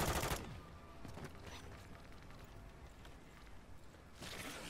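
Rapid gunfire from automated sentry gun turrets in a zombies shooter game, a dense fusillade of shots bursting loudly at the start and again near the end, with quieter scattered firing between.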